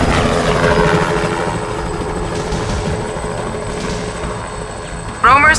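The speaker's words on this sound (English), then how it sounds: "Come on, I have a chopper." A helicopter's rotor and engine thrum steadily in a Syphon Filter game cutscene, a close, continuous chopping drone under brief speech, with a sharp burst near the end.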